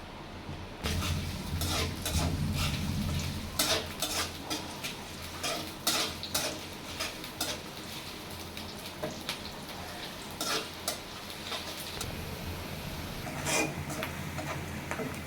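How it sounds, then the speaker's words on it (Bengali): Sliced onions frying in soybean oil in a pan, stirred with a utensil: a steady close sizzle with repeated sharp scraping and clinking strokes of a spatula against the metal, no voices. "আমার পেঁয়াজটা একটু ভাজা ভাজা হয়ে গেছে মানে হালকা ভাজা একটু নরম হয়ে আসছে"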